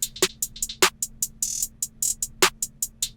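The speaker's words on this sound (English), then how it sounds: "Clap." A clap sample in an FL Studio trap beat snaps a few times over a rapid programmed hi-hat pattern, with the sharp hits standing out clearly and no one talking.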